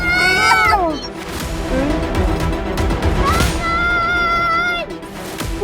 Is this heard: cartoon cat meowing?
yes